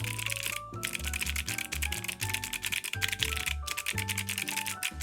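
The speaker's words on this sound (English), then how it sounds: "I feel like this board is easier to type on." Typing on a Minimi40 mechanical keyboard: rapid, close clacking keystrokes in an irregular continuous rhythm, with a couple of brief pauses and a soft musical bed underneath.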